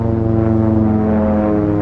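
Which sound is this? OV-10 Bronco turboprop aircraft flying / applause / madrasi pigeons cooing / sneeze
OV-10 Bronco turboprop aircraft flying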